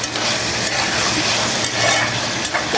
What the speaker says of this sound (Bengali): এখন চুলা রাসটা হাই ফ্লেম করে জিরা গুঁড়াটাকে একটু মিশিয়ে নিব